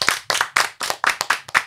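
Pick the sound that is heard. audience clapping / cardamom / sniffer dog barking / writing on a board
audience clapping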